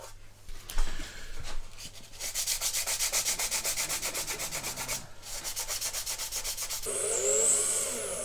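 Sanding by hand on a 1/200 Trumpeter plastic model of the battleship Bismarck, rapid rhythmic back-and-forth rubbing strokes close up, pausing briefly and resuming, alone without talk.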